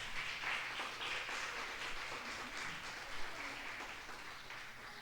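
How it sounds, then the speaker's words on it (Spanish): A church congregation at a year-end service applauds in a steady, sustained round of clapping from many hands, filling the room evenly for several seconds. "Dale un aplauso a Isabelita, por favor."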